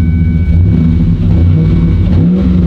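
A truck engine rumbles loudly and close, its pitch rising as the throttle is pressed, with a deep steady drone throughout.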